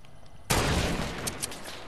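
Gunfire in the video game Fortnite erupts suddenly as a loud burst of shots with a sharp crack and a rolling tail, followed by a few quieter pops.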